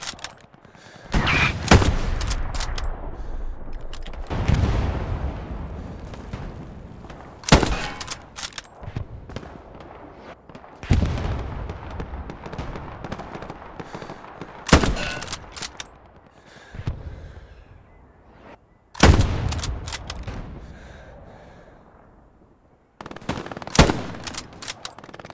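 Machine gun fire in the World War II shooter Hell Let Loose: sharp bursts and single shots recur every few seconds, loud and close, with echoing tails fading between them and no talk.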